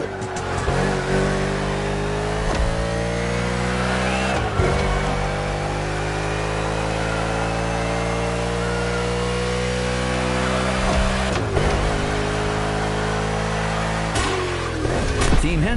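A race car in a NASCAR event in The Crew video game, loud and close, with the engine revving hard through a steady high drone, several sharp upshifts, and rising pitch as it accelerates out of corners.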